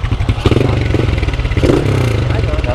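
A small Honda Exciter motorcycle with a quiet stock exhaust revving up close, its engine note rising and surging loudly and continuously with some mechanical clatter.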